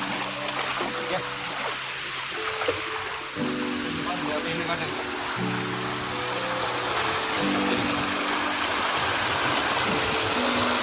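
Stream water flowing steadily through a dense forest, a broad continuous rush that persists under a man's speech for the whole stretch.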